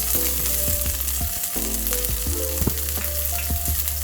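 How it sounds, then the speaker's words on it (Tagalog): Medium white onion sautéing in cooking oil in a pan for pork giniling, a loud continuous crackling sizzle up close with occasional stirring scrapes and a steady hum underneath, no voices. "Igigisa lang natin yan guys"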